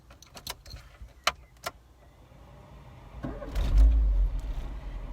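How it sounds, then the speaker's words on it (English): A few metallic jingles and clicks, then the engine of a 1990 Austin Rover Montego cranks and catches, settling into a low rumbling idle. "we're going to start this car because I want you to hear how she sounds"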